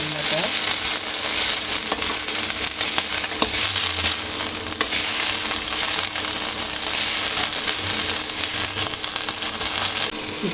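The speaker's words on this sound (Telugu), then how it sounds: "కరివేపాకును, కొత్తిమీర, చిన్న ఫ్లేమ్ పెట్టుకొని ఇలా వేయించుకోవాలన్నమాట." Curry leaves and coriander leaves frying in a pan over a low flame for pickle, a loud, dense, continuous crackling sizzle with occasional faint stirring clicks.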